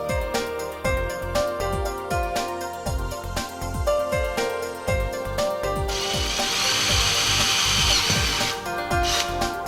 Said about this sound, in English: Then make the thread in the holes.